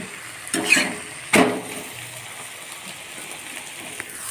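Rolls fry in hot oil with a low, constant sizzle, broken by two sharp clatters of a utensil or pan near the start.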